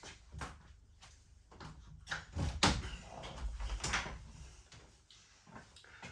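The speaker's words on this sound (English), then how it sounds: "I'll just shut the door" Soft knocks and a latch clunk as a door is pushed shut indoors, a few quiet thumps spread over several seconds.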